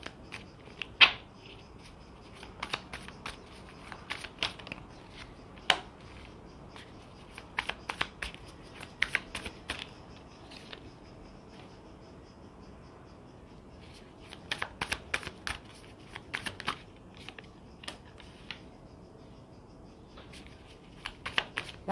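Tarot cards shuffled by hand before a reading, a soft intermittent riffle and slap of cards in bursts with pauses, close and quiet, no talking.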